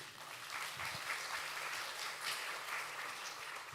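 A church seminar audience claps steadily in warm, sustained applause welcoming a speaker, filling the space without pause.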